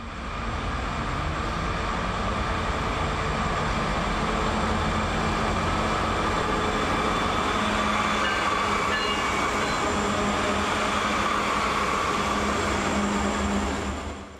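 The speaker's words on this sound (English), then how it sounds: "southbound M441, Waycross to Tampa mixed freight and general merchandise for Yeoman Yard" A southbound mixed freight and general merchandise train rolls past in a continuous, steady rumble of wheels and cars, loud and close, with no voices.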